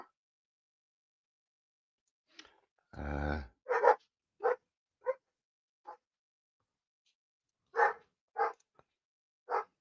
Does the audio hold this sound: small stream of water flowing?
no